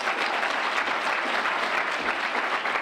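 An audience at a civil rights speech claps steadily and densely throughout, a sustained wash of many hands with no break and no voices above it.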